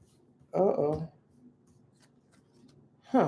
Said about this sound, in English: Let me just shuffle these cards.